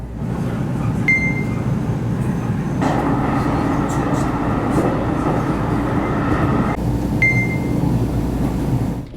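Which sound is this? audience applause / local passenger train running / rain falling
local passenger train running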